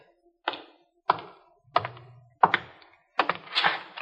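A radio-drama effect of a man falling forward on a sidewalk and a bucket spinning out of his hand: a run of five sharp thumps and clatters about half a second apart, the last one longer and rattling.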